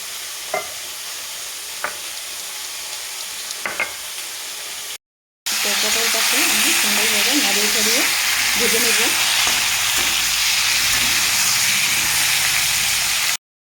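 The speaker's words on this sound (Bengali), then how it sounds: "দেখো কত সুন্দরভাবে আমি পটলগুলো ভেজে নিয়েছি তেলে" Pointed gourd (potol) frying in oil, heard after a short gap as a loud, steady sizzle with occasional stirring scrapes; the opening seconds are quieter with a few light clicks.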